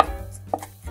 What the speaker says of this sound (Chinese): 剁一些蒜蓉